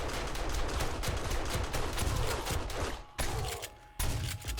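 Shotgun gunfire in the video game Amnesia comes as a dense barrage of loud, booming blasts that run almost continuously, with a couple of brief dips, and no speech on top.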